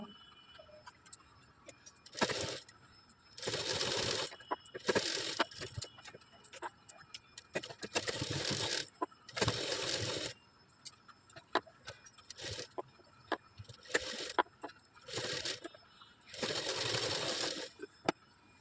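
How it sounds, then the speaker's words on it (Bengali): Sewing machine stitching a topstitch over blouse back-neck fabric, running in several separate bursts of steady rapid whirring with short quiet pauses between them, close and moderately loud. "এবার এর উপর দিয়েও আমি একটা চাপ সেলাই দিয়ে নেব"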